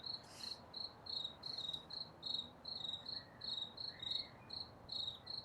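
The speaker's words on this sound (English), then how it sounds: "Listen to those crickets." Crickets chirp at night in a steady, regular pulse of high trills repeating about twice per second, faint and close with no voices.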